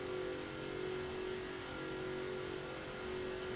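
A 2010 Rossion Q1 in Forza Horizon 4 roars at sustained top speed on a motorway, a loud, steady high-revving engine drone with a strong constant tone throughout, alone with no talk.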